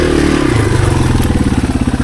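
A Yamaha TW200 motorcycle, a roached $600 budget build, running during a test ride, its single-cylinder engine loud and close with a rapid pulsing thump that settles into an even chugging rhythm.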